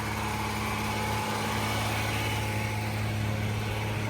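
Car engine running at a high idle with its carburetor out of adjustment, a steady, even drone with a constant low hum, heard from nearby and alone.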